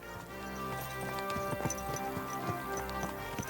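Horse hooves clip-clopping at a steady walk in Kingdom Come Deliverance 2, a medieval video game, as a moderately near rhythmic clatter set against a soft musical and ambient game backdrop, with no talking.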